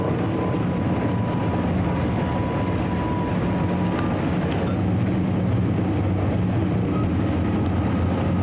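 Engines of a B-17 bomber rumble continuously as it taxis on the tarmac, a steady, loud, droning low roar heard from inside the aircraft with no breaks.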